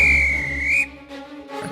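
A loud, sustained high train whistle blast in the video game Stepford County Railway, with a slight pitch rise, cutting off abruptly, followed by brief softer rustling noises.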